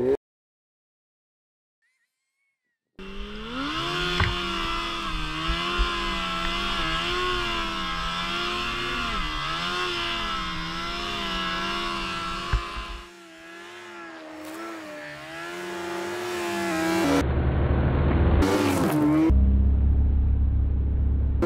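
A powerful Apex vehicle runs close past a camera placed in a bush. A loud, steady, warbling engine drone lasts about ten seconds, cuts away abruptly, then returns as a nearer, rising roar.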